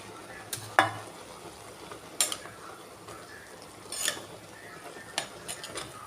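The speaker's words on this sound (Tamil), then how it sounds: "இன்னும் கொஞ்ச நேரம் பிரட்டி விட்டு மூடி வைக்கணும்" Spinach greens stirred in a cooking pan: sparse, quiet scrapes and utensil clinks with a few sharper knocks spaced irregularly over a soft background, no talking.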